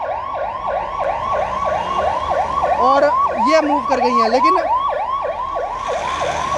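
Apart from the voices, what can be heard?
ambulance siren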